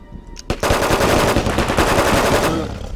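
Gunfire in the UFO: Aftermath video game: a single sharp shot followed by a sustained, loud burst of rapid machine-gun fire lasting about two seconds before tapering off.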